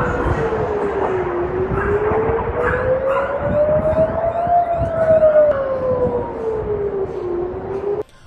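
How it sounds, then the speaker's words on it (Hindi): An air raid siren in Tel Aviv wails loud and continuous, its pitch rising slowly, then falling and rising again over several seconds before cutting off. "हवाई हमलों के सायरन बजते हैं"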